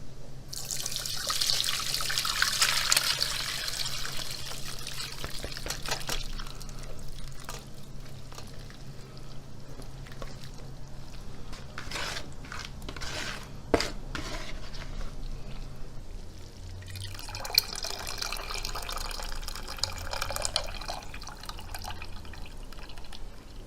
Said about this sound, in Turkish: Ispanaklarımız 15 dakika kaynar suda bekledi. Şimdi süzüyorum.